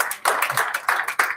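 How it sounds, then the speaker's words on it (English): A brief burst of fairly quiet, quick clapping comes from a small audience at the British Chess Championships, the hits packed close together with no talk over them. "So May, a round of applause for Badana, and again."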